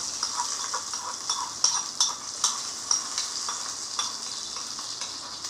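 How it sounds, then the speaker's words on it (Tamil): Hot tempering poured into chutney crackles in a steady sizzle, with soft stirring and a few sharp clicks of a spoon against the bowl; no voices. "இப்போ தாளிச்சதை சட்னியில் சேர்த்துக்கலாம்"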